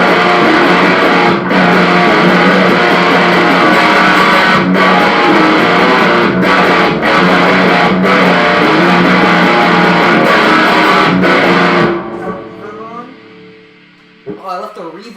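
Electric guitar plays a distorted metal riff tuned a half step down with reverb on, loud chugging chords for about twelve seconds before cutting off, followed by a faint ringing tail and a brief noise.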